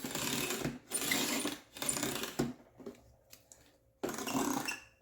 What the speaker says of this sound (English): hold it down, cut it off